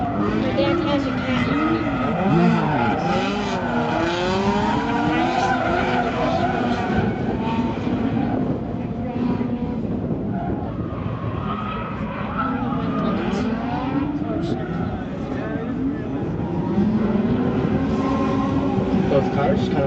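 Drift cars slide around the track at a pro light class drifting event, engines roaring loudly and continuously with rising and falling revs, tires hissing through the corners, while a commentator talks over the action throughout.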